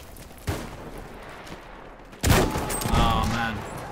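Rifle fire in the Battlefield 1 shooter game, with one sharp shot early and then a louder burst of gunfire with echoing tail, close and punchy, and no talk over it.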